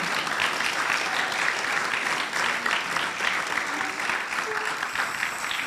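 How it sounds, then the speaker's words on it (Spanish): A church congregation applauds loudly and steadily, many hands clapping in a thick, continuous roar that fills the room for several seconds. "Dele ese aplauso fuerte al Señor,"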